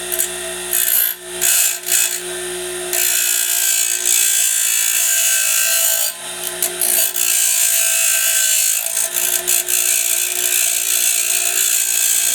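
A power grinder shaping parts of an Argentine cutter, a loud continuous rasping whine with brief dips and restarts, filing-like scraping on the workpiece.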